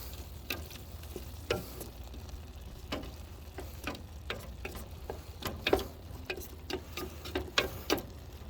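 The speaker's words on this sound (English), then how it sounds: "I'm going to go ahead, stir this up one more time." Homemade chili sizzling in a pot while being stirred, with steady frying hiss beneath repeated close scrapes and clicks of the spoon against the pot, with no talking.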